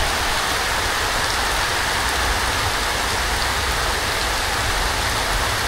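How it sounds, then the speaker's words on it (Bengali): Heavy monsoon downpour pouring steadily and loudly without a break, a dense close hiss of rain hitting surfaces all around, with no voices. "এইখানেই ঝুম বৃষ্টিটা শুরু হয়েছে"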